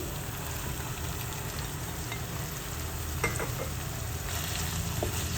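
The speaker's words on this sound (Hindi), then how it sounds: "मैंने चिकन का बारीक कीमा ले लिया था, ये कम से कम 250 ग्राम है, ये मैं इसमें डाल रही हूँ।" Around 250 grams of finely minced chicken frying with softened onions in a pan, a steady close sizzle with a few stirring scrapes and clicks, no speech.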